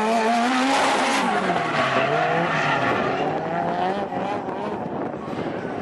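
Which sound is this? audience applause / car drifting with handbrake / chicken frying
car drifting with handbrake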